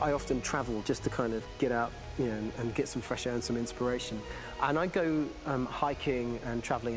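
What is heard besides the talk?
No distinct noise like a dog, phone or traffic.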